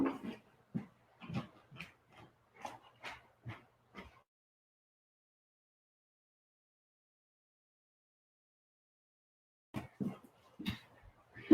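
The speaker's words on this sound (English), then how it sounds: "I have a barking dog." A dog barks in a quick series of short, moderately close yips and barks, then goes quiet for several seconds before another brief burst, with nothing else audible.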